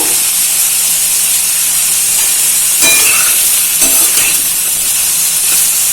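A soya chunk and vegetable mix sizzles steadily in a pan over a low-medium flame while it is stirred, a loud continuous hiss with occasional scraping clicks of the spoon, no voices.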